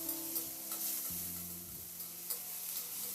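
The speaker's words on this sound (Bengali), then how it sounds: "আদা রসুনটা দিয়ে পেঁয়াজের সঙ্গে মিনিট 2-3 মতো নাড়াচাড়া করে আবার একটু ভেজে নেব" Onion, ginger and garlic stirred and fried in a pan make a soft, continuous sizzle broken by periodic scraping strokes of the spoon.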